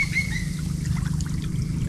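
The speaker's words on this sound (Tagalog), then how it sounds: "Medyo humina na yung agos" Steady low rushing of a river current in a forest setting, a continuous broad wash that holds even throughout with faint high chirps over it and no talking.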